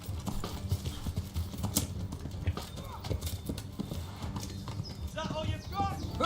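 Horse hooves clip-clopping at a steady trot in the medieval game Kingdom Come: Deliverance, running under game sounds with steady Russian talk throughout.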